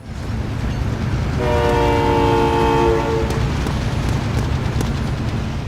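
A train rolls past in the video game Warzone, a steady loud rumble with a sustained multi-tone horn blaring for about two seconds in the middle, the horn fading as the rumble carries on.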